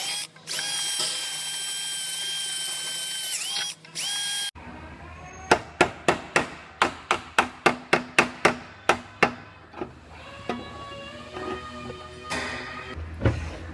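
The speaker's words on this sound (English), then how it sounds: "I'll drill straight through these the rest of the way" A steady drill whine gives way to a rapid series of sharp metallic bursts as a bit punches through spot welds in car body metal, about a dozen in a row, close and loud.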